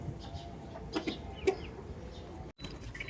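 Chickens and a rooster kept at home with ducklings: a few scattered soft clucks and short squawks, faint and fairly close, over a low, steady background hum of the yard.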